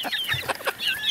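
Several chickens cluck and chatter softly nearby in short overlapping calls.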